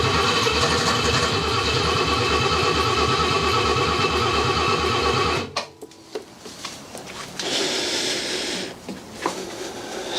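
An abandoned barn-find BMW engine, unrun for 30 years, cranks with a loud, steady rhythmic chugging that cuts off abruptly midway, followed by quieter rattles and clunks with no clear idle.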